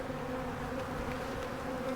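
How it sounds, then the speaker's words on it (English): Honeybees from two agitated hives buzz steadily and close, a continuous droning hum with no talk over it. "Sorry guys about the bees, I got 2 hives that are really bad."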